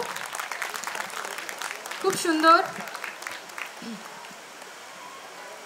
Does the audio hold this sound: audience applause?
yes